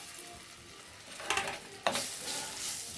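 Ginger hits hot oil in a pan while frying for a fish curry, a soft crackling sizzle that flares with two brief bursts as it is added and stirred, then settles into a steady fry, with no voices.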